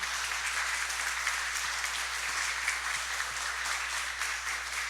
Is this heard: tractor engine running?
no